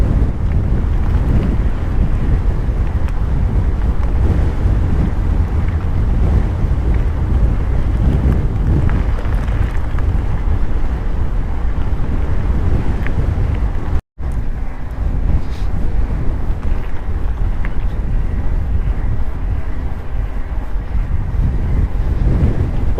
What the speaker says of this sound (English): Although it's a nice sunny day, it seems to be really windy today.